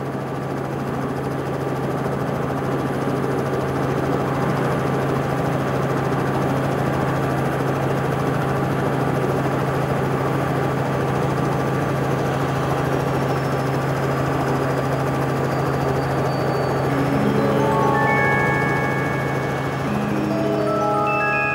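A helicopter engine drones steadily throughout, a constant low mechanical hum and whine heard from inside the cabin.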